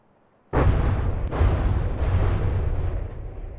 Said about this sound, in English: Explosions, woo!